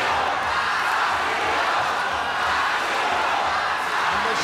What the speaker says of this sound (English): the sold-out crowd here in Jakarta are chanting for Joshua Pacio